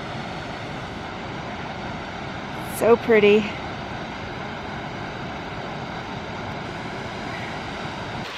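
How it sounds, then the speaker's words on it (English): Steady broadband rush of a waterfall in a canyon on a hike, constant and fairly close throughout, with a brief spoken remark over it midway. "check out this waterfall"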